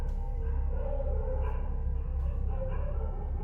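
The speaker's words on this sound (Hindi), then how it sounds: "कुत्ते भौंकने शुरू हो गए" Dogs barking and yipping at night, faint and distant over a murky low background hum, with scattered short calls and no voices nearby.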